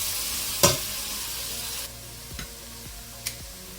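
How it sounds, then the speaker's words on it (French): Onions cooking in a saucepan, a soft steady sizzle with a sharp clang of a utensil near the start and a couple of lighter taps later. "on laisse cuire jusqu'à ce que les oignons deviennent transparents"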